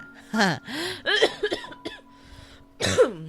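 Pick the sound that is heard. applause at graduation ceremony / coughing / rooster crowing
coughing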